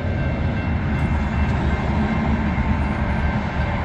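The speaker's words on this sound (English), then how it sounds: "there's a train coming." A Union Pacific intermodal train rolling toward a road railroad crossing at night, a loud, steady rumble and rail roar held throughout, no voices.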